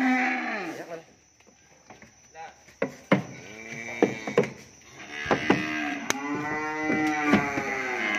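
French-breed cattle bellow while being loaded onto a truck at a cattle farm, giving several loud, drawn-out moos in close succession with farm clatter between them.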